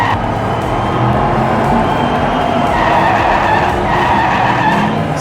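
Diecast toy race cars, a Porsche, Alfa, Corvette and Nissan, roar along a track in a continuous loud rumbling whir with skidding texture, steady and close throughout, with no talking.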